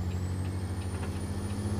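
A custom Haterbilt 500-horsepower truck engine rumbles in an ice road trucking game set in Mexico, a steady deep drone with a faint rising whine above it.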